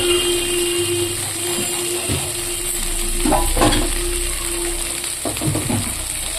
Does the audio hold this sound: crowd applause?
no